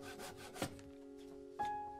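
A handsaw cuts the hard nodes off a bamboo strip, giving a couple of short rasping strokes with ringing tones between them at close range, and nobody speaks.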